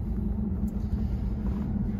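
A Tesla on Full Self-Driving beta 10.69 rolls along a road, a steady low rumble of tyres and cabin noise heard from inside the car, even and continuous with no voices.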